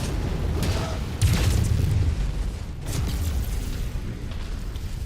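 A missile impact in the MechWarrior video game produces a loud, sustained explosive rumble with a few bursts layered into continuous heavy combat noise.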